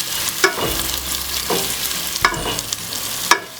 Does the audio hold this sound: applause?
no